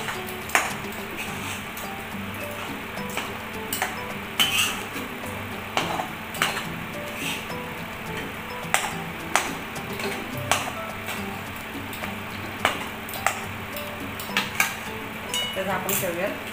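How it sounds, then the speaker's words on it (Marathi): Wheat flour and jaggery sheera is stirred in a pan, with repeated metallic clinks and scrapes of a spoon against the pan over a low background hum. "मी पुन्हा एकदा सरळ मिक्स करून घ्यायचं आहे."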